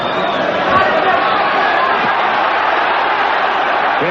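A large crowd packed into the Queens Park Rangers football ground for a boxing match chants "Here we go" in a steady, loud, continuous wash of many voices.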